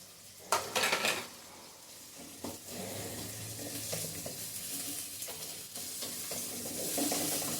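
Garlic frying in a pan, a soft steady sizzle beneath clattering of a metal spoon and utensils against the pan, with a few sharper knocks at the start and near the end.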